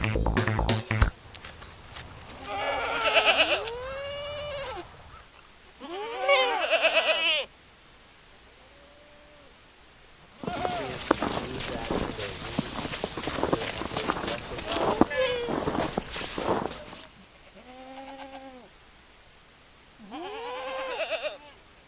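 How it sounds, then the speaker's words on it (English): Goats and sheep bleat in repeated calls at the Long Pasture Wildlife Sanctuary, close and fairly loud, with a burst of shuffling footsteps and movement in the middle and people talking between the calls. "we've got some goats here, some sheep down the street here at the Long Pasture Wildlife Sanctuary"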